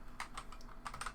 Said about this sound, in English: Sorry, my keyboard's over here.